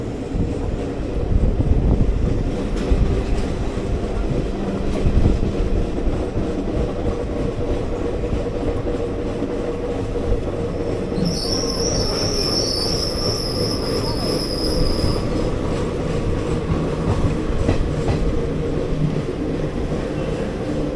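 The 06576 summer special passenger train rolls into Bangarapet station with a continuous low rumble of wheels on rails, and high metallic brake and wheel squeals rise for several seconds midway.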